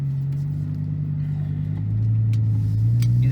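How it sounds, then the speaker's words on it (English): Interior cabin sound of a 2007 BMW M6 with its V10 driving, a deep steady exhaust drone that rises in pitch and loudness as the car accelerates, with light road noise. "You definitely cannot get around that exhaust noise."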